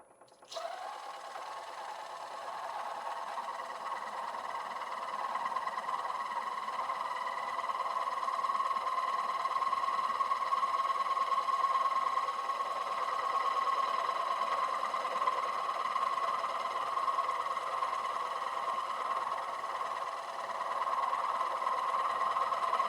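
A wood lathe spins a bowl at about 550 RPM, a steady motor whine with a bright humming tone holding evenly throughout, close and unbroken, with no voices.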